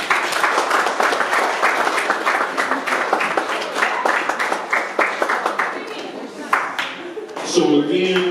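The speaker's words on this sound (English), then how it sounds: "give your parents a hand clap now" A crowd of parents at a middle school football banquet claps steadily and warmly for several seconds, a dense patter of many hands in a room that tapers off, with a voice briefly heard at the end.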